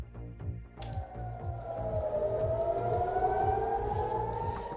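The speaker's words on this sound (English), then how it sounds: "Sirens across Israel as a state of emergency is declared" Civil defense air raid sirens sounding across Israel during a state of emergency: a loud, wailing tone rising slowly in pitch and holding, starting after a brief moment of low rumble.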